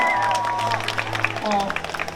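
Brief applause from an outdoor music festival crowd welcoming a DJ, scattered clapping under a sustained musical tone and a voice talking.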